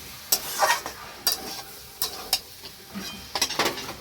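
Vegetables and spice paste for bhoger labra being stir-fried in a pan, with repeated scraping strokes of a spatula over a low sizzle, coming in short bursts at an uneven rhythm, close and fairly loud.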